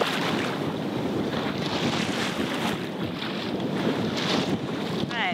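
Wind and water rush steadily past a sailboat sailing hard on the wind, a continuous loud wash of air and splashing hull noise close to the microphone.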